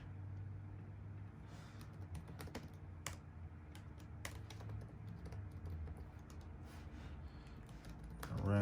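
Quiet, steady keyboard typing with irregular light clicks over a low hum of passing traffic, close and faint, with no talking.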